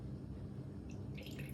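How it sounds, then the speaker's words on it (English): Water drains from the bottom of a separating funnel holding bromine in cyclohexane, a soft steady trickle with light dripping and a few brighter splashy drops near the end, quiet and close. "We're going to let the water go out the bottom."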